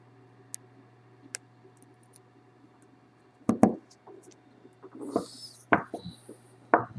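Small snips and clicks come from cutting the positive wire on a Kanger T3 clearomizer coil: a few faint ticks, then several close, sharp cuts and clicks with quiet gaps between.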